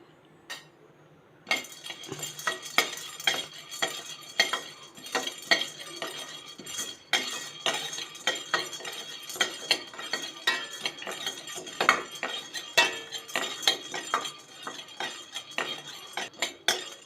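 Roasted gram being dry-roasted in a pan while a metal spoon stirs and scrapes it, producing a busy run of clinks, taps and rattling scrapes close by, after a brief quiet start.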